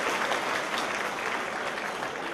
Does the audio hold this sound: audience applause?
yes